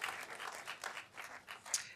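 An audience applauds at an International Day of Human Rights event: a soft, steady patter of many hands clapping, heard faint and somewhat distant for two seconds with no voices.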